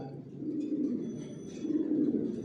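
New adult pigeons murmur in a breeding loft with a low, continuous cooing hum that swells toward the end, close and moderately soft.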